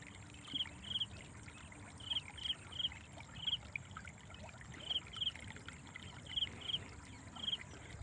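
Water flowing gently in a dwindling stream on farmland in Uppara Palle, Chennur mandal, with a low continuous trickle and small bright splashes recurring throughout.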